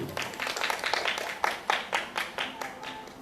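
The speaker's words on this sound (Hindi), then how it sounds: "इनके योगदान के लिए एक बहुत तेज तालियां।" Audience clapping at a school Independence Day celebration, a steady burst of applause with a few sharper peaks, fairly close and lasting throughout.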